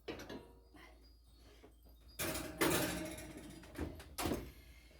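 An oven door is shut on a cake going in to bake in a home kitchen, giving a few soft knocks and then a louder thud with a brief rattle, close up and fairly quiet.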